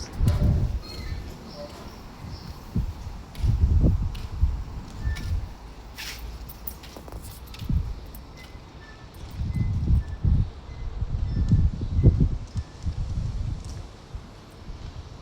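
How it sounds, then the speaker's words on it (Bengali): Strong gusts rush through outdoor trees in Lebanon, swelling and fading in loud surges of rustling leaves and low wind buffeting against the microphone, with a few faint birds in the background. "কি যে পরিমাণে বাতাস"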